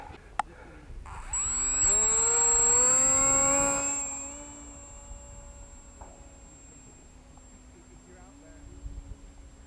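FMS Alpha RC plane with an electric motor, heard as a loud rising whine that swells over a few seconds and then fades to a steady, fainter drone as the plane climbs away.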